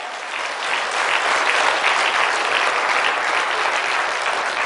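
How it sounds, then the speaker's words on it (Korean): Steady applause from a church congregation, dense and sustained clapping that swells slightly after the start and holds at an even level. "이런 박수 한번 쳐요"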